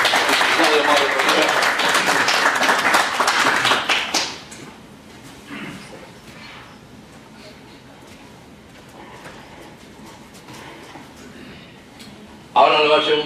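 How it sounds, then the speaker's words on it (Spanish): Audience applause at a financial seminar fills the first four seconds, then gives way to a speaker's voice, with a brief burst of clapping returning near the end. "Un aplauso para ti."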